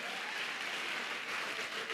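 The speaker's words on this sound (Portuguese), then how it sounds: "Ajuda o irmão lá a aplaudir, irmão" A church congregation applauds in a steady, even wash of claps that stays fairly faint and distant, with no one speaking over it.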